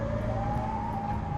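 A steady, sustained siren tone rising slightly in pitch over a low rumbling background, loud and continuous without pauses.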